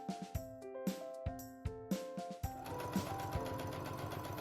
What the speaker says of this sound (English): Sew it up the sides.